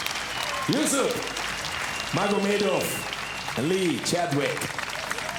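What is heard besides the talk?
audience applauding fighters in Amsterdam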